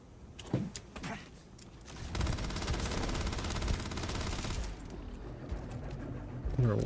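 Sustained automatic gunfire from a weapon in the Starfield video game, a dense continuous burst lasting several seconds at close range, preceded by a few scattered quieter shots and game sounds.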